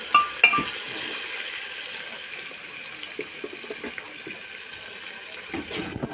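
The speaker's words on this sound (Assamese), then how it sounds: "পিঁয়াজখিনি অলপ ভাজি ল'ব লাগিব" Chopped onions sizzle in a pan while cooking egg biryani, a steady, even frying hiss with a couple of sharp utensil clinks near the start and the end. No one speaks.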